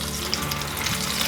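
Potato-based vegan shrimp deep-frying in hot oil, a dense, continuous bubbling sizzle with fine crackles, close and steady throughout with no talking.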